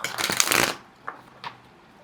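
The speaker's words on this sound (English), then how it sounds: "Let me just shuffle the deck." Tarot deck shuffled by hand in a brisk riffling burst for under a second, followed by two soft, short card taps, with no talk.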